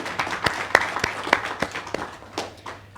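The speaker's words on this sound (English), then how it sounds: "So another round of applause." Scattered audience applause at a press conference and social mixer, a short burst of individual hand claps of uneven rhythm, fairly close and loud.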